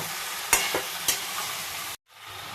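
A spoon scrapes through a Bengali-style cabbage curry with peas as it fries in a pan. The soft sizzle runs steadily, with a few sharper scrapes from the utensil, and then cuts off briefly.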